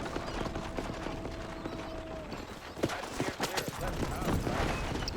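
Horse hooves clip-clop at a steady riding pace in Red Dead Redemption, beneath game music and a voice talking, with a few sharper knocks later.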